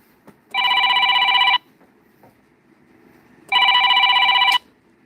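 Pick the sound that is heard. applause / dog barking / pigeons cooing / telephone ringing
telephone ringing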